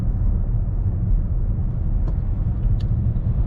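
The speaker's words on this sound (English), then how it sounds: "we'll take it on the highway here, really step on the accelerator" Fisker Karma hybrid sports car accelerating on a highway, heard from inside as a steady low road rumble and tire noise with no clear engine note, continuous and fairly loud.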